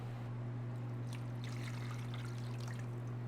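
Room-temperature filtered water pours into a bowl of sourdough focaccia ingredients, a steady close trickle over a loud constant electrical hum.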